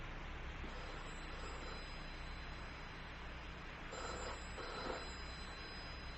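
Faint electronic telephone ringing tone in a radio drama carries over steady background noise, with a couple of brief bursts near the end; no voices.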